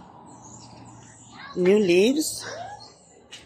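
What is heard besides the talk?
birds singing outdoors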